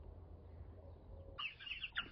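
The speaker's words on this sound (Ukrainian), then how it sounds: "Це півники, іспанка голошийка." Low background rumble, then a short burst of calls and clucking from Spanish naked neck roosters near the end.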